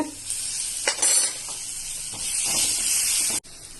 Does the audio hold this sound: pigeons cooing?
no